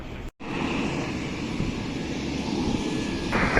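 A fixed-wing airliner takes off at Vancouver International Airport on a clear day, giving off a steady, loud jet engine roar that holds and builds slightly toward the end after a brief dropout near the start.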